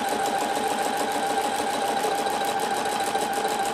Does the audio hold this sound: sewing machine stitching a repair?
yes